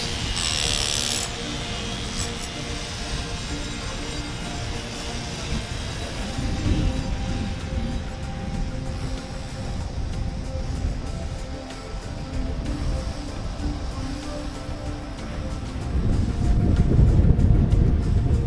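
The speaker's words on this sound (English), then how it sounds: "here we go. That wind again." Strong wind gusts across a downtown Miami street on Biscayne Boulevard, a continuous loud roaring buffet that swells and surges, rising again toward the end.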